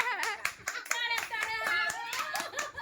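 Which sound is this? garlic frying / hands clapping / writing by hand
hands clapping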